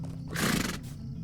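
A single horse whinny in a video game, Lord of the Rings Online, rises and falls for about half a second, fairly close, against a quiet low hum.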